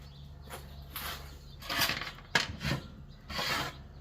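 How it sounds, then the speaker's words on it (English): A metal grate being set into a mini kamado grill gives several short scraping, rasping contacts of metal on the ceramic body, close and fairly loud, with a sharp clank near the middle and a quiet hiss between the bursts. "I'll go ahead and get my grate in here."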